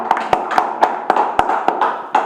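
A few sparse hand claps at an Indonesian talk session on coastal women's empowerment, about nine sharp separate claps spaced unevenly over a couple of seconds, close and fairly loud with no talk.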